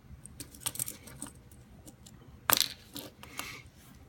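Close-up clicks and scraping as a plastic cap is pried off a fidget spinner bearing, with small taps early on and one sharp snap near the middle followed by light rattling.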